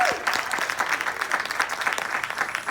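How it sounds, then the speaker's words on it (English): A crowd in a church claps steadily, a burst of applause at close range with no voices standing out. "Y'all give yourself a round of applause."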